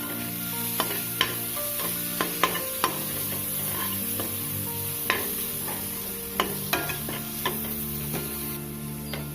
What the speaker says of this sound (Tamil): இதையும் சேர்த்து நல்லா ஃப்ரை பண்ணியாச்சு